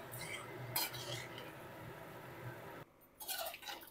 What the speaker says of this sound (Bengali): জলটাও ভালো করে তরকারির সাথে,